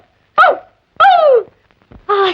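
Three sharp, separate dog-like barks ring out close and loud in a short sequence, voiced by a man imitating a dog on request.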